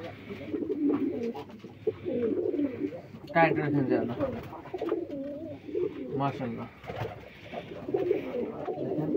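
Soft overlapping cooing of many pigeons fills a Kuakata pigeon farm while someone talks briefly nearby.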